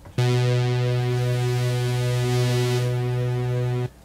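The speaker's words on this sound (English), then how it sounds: "a bit of bit reduction here," A sustained synthesizer tone with bit reduction, buzzy, harmonically rich and slightly gritty with a digital edge, held steadily for nearly four seconds before cutting off.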